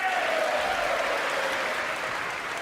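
Sustained applause from a large audience at the State of the Union address, a dense even roar of clapping heard from a distance that fades slightly toward the end.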